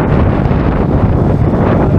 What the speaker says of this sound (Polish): ale wiatr wieje